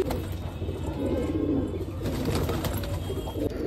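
A red Lalchina pigeon, also called Lal Tambda, gives a soft, low, throaty coo up close, one continuous rolling call over a few seconds without any talking.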